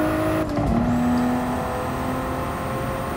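A 2019 Toyota Supra with maximum upgrades in the GT Sport racing game, its engine droning and whirring steadily with a shifting pitch and an intake rush.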